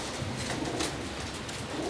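Show pigeons at an old fanciers' meeting, soft cooing buried in dense, constant crowd and room noise, faint and continuous.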